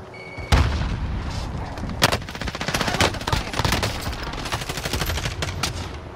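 Gunfire in Call of Duty Warzone, Cold War season 3 with an FFAR rifle: loud rapid automatic bursts and sharp single shots crackling nearly nonstop, with a heavy boom near the start, close and dense throughout.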